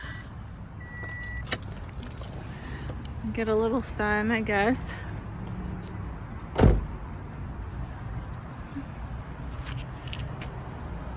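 A person steps out of a car and the car door closes with one sharp thump partway through, over steady outdoor background noise, with a voice talking briefly beforehand.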